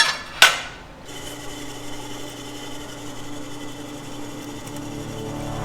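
A milling machine runs on Jeep parts, a steady mechanical hum with tonal whine, preceded by a sharp metallic hit and a brief rush of noise.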